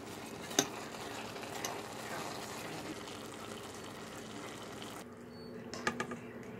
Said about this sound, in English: Now we're draining our quinoa and carrots.